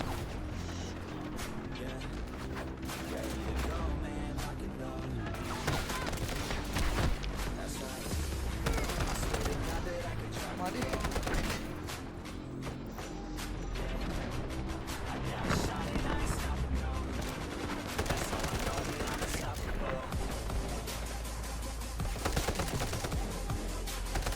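Rapid gunfire from the video game Delta Force, with dense bursts of automatic shots and heavy impacts running continuously and loudly throughout.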